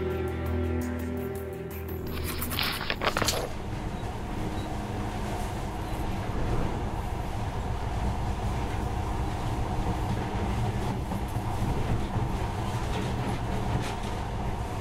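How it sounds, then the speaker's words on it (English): Steady rumbling monorail ride from the game Metro Last Light, a continuous loud rolling drone with low rattling that fills the whole stretch after a brief burst of mechanical noise near the start. "this monorail seems magic, doesn't it?"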